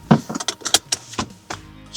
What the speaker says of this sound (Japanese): このドアがちょっと閉めにくいな